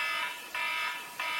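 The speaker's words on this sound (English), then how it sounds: "There's an alarm going on." Electronic alarm blaring in loud, steady high-pitched beeps, three pulses in quick succession with no voices.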